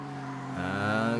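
Mitsubishi 3000 GT race cars pull away from the start of a ToCA Race Driver 2 race at Bathurst, their engine notes climbing in pitch as they accelerate. The sound lasts only a moment and stays moderately loud and close.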